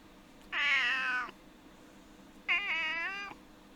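Two clear cat meows from the Broken Sword video game, each drawn out for nearly a second with a gap between them, loud and close against a quiet background with no talk.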